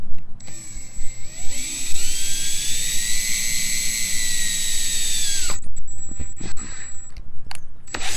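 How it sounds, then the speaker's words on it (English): A close, high-pitched drill whines continuously as it bores holes through a gutter for a planter, its tone slowly shifting, then stops and gives way to clattering handling noises. "Once you finish drilling all of your holes on the sides"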